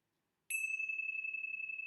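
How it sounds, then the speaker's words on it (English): A single bell is struck once after a brief silence, its clear, high tone ringing on steadily and softly. "I'm going to ring the bells"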